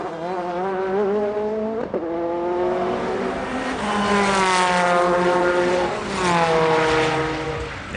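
A 2002 Le Mans 24 Hours race car pulls out of the pits, its engine note climbing through the gears in loud rising harmonic sweeps, with a brief dip around two seconds before revving up again, no voices.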